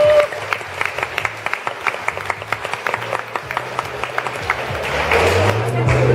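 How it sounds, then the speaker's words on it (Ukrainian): An audience at a health festival in the Lviv Arena applauds partners and friends with a burst of many hands clapping, loud and close, with sharp individual claps standing out and a rising murmur near the end. "Давайте привітаємо оплесками наших партнерів і друзів"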